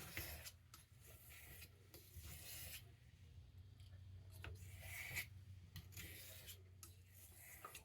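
Repeated abrasive passes of a Boker C75 knife blade being sharpened, a steady rasping scrape with rhythmic strokes at close range, no talking.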